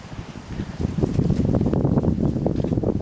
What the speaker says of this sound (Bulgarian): И вятъра е около 200 км в секунда.